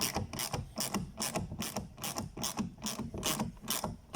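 A 10mm ratchet loosens a plastic-mounted side mirror bolt on a 2014 Toyota Yaris, producing close, steady bursts of rapid clicking repeated about every half second.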